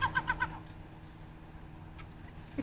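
A baby's high voice imitates seagull calls at a kid-friendly seaside spot, with four quick squeaky chirps close up, followed by quiet outdoor ambience and a faint later cry.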